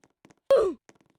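A single Roblox character "oof" death grunt from the video game, a short loud voiced exclamation with a falling pitch, heard alone between faint clicks.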